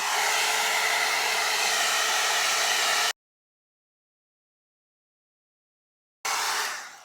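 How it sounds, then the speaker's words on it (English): An NV 3-in-1 styler with its barrel removed blows hot air over a wig, a loud steady rush for about three seconds, then dead silence, then the blower roars back in briefly before fading. "I'm going to use my NV 3-in-1 styler. I'm just going to take the barrel off."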